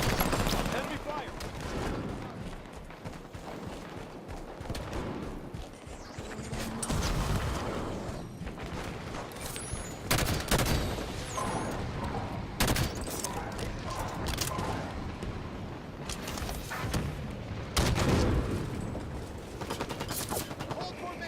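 Enemy gunfire in Halo 5 Warzone, with sustained automatic bursts and heavy shots that keep going throughout amid explosions and battle noise, while voices call out over the fighting.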